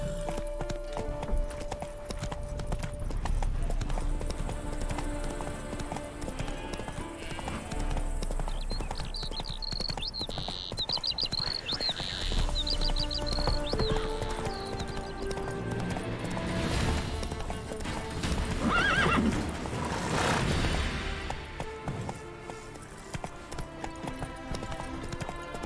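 Roach the horse in The Witcher 3 gallops with rapid clip-clopping hooves under game music, and a neigh rises partway through amid shifting ambience.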